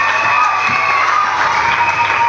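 Applause and cheering from a crowd of pupils fill a school investiture ceremony for a student government, steady and loud throughout with children's voices mixed in.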